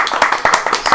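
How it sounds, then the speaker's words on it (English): A short burst of clapping for a wedding couple, a few close hands applauding quickly and unevenly for about a second. "round of applause"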